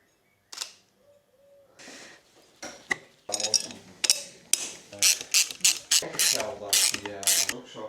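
Ratchet wrench torquing the wheel bolts of a motorcycle fitted with new wheels and discs, a series of sharp mechanical clicking bursts that grow denser and louder toward the end, with a brief snatch of talk early on.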